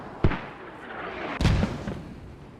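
Two heavy mortar blasts in a multiplayer war video game, a deep booming hit followed about a second later by another, each trailing into rumbling debris noise.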